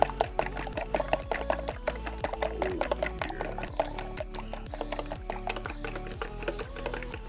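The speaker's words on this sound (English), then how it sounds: "Let's go ahead and whisk this together." Eggs with salt and pepper for a breakfast quiche are whisked in a bowl, giving a rapid, even clatter of sharp strokes repeated close by throughout.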